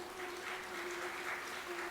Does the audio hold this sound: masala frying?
no